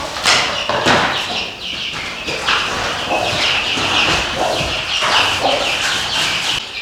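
Chickens and chicks on a village farmstead cluck and chirp continuously, loud and close, with overlapping calls and some scuffling throughout.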